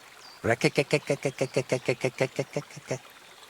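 A human voice imitates a toad's croaking with about fifteen rapid, evenly spaced guttural pulses, close and fairly loud, in the wetland setting of the Kingdom Come: Deliverance 2 video game.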